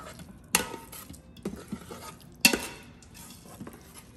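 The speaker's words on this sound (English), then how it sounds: "I'm just gonna mix it a little." Homemade vegetarian dog food is being mixed in a pot, with two sharp scraping clinks of a utensil and softer stirring sounds between them, close and clear with no talking.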